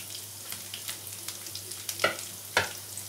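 Potatoes fry in hot oil for a dum aloo dish, a steady soft sizzle with a few louder clinks and scrapes as the pieces are stirred, close and without talk.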